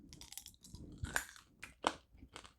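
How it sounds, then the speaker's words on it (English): Crunchy Skittles candy from a US Army MRE chewed close to the mouth, with irregular crisp crunches and softer wet chewing over about two seconds, fairly quiet and with no talk. "Maybe a little more crunchy than your average Skittle, but as I chew, they're softening up"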